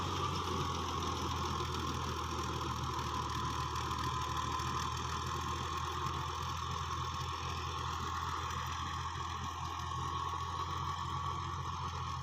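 A 1991 Fiat 480 tractor runs with a 54-cutter rotavator attached, its diesel engine holding a steady, moderately loud idle-like drone with a faint rhythmic knock and a thin whine above, no talk.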